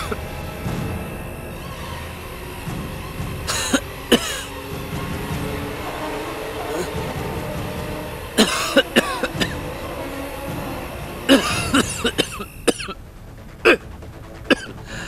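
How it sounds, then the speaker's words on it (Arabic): A man in an Arabic drama series coughs in several harsh, separate bursts, some in quick pairs and clusters, spread across a quiet indoor scene with low background noise. "ليش أتار عم يسعل هيك؟"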